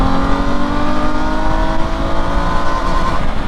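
A Honda Gold Wing GL1800 motorcycle engine, downshifted to third in manual mode, revs steadily toward its rev limit, a loud sustained drone with rising tonal whine and no speech over it.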